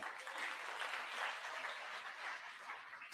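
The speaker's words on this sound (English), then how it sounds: "I need you to clap for that." Audience clapping at the opening of an energy conference in Guyana, a steady, fairly quiet wash of many hands for about three seconds with no talk over it.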